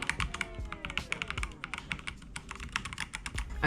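Typing on an Attack Shark K86 mechanical keyboard fitted with Akko Crystal Pro v3 switches, a close, steady run of crisp clacky keystrokes with no talking.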